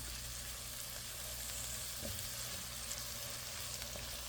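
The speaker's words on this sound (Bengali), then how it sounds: "একটু কষিয়ে নেব যেন কাঁচা গন্ধটা চলে যায়" Spices and salt for a pomfret fish curry with eggplant and potato sizzle steadily in a hot pan, giving a soft, even frying hiss throughout.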